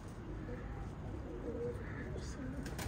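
A pigeon gives a few soft, low coos close by over a quiet background, with faint rustling around it.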